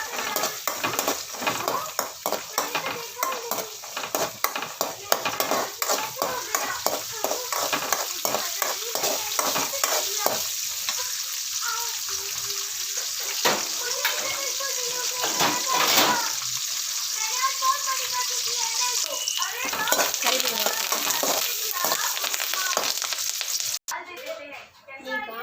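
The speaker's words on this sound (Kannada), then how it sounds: "ಗೇರು ಬೀಜ ಫ್ರೈ ಆಗಲಿ" Cashew nuts fry in ghee in a pan while a chicken uruval dish is being made, giving a steady loud sizzle broken by scraping stirring sounds, with brief spoken words mixed in.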